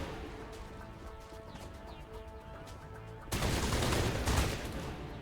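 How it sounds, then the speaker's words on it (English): Sudden dense burst of gunfire erupts in the Mass Effect video game after a quieter stretch, a loud sustained volley of rapid shots with crashing impacts that fills the second half. "Who's shooting? Who are we shooting?"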